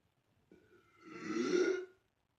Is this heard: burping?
yes